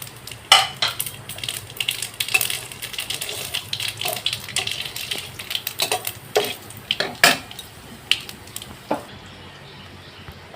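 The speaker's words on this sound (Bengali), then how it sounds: "তেলটা আমার গরম আছে এর মধ্যে দুটো শুকনো লঙ্কা দিয়ে দিলাম ফোড়নে দুটো লবঙ্গর কুচি দালচিনি আর একটু কালো জিরে" Dry red chillies, chopped cloves, cinnamon and black cumin hitting hot oil in a pan, a crackling sizzle with sharp clinks and spoon scrapes against the pan throughout, fairly close.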